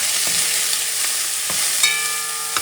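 Yellow onions and cilantro fry in a hot pan for Puerto Rican stewed chicken wings, with a steady close sizzle and a few scraping stirs of a utensil against the pan.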